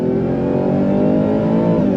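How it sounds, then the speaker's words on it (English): A supercharged V8 in a 2024 Ford F-150 Raptor R pulls hard under full throttle, a loud, continuous engine roar heard from inside the truck. "Let's go on throttle in this Raptor R."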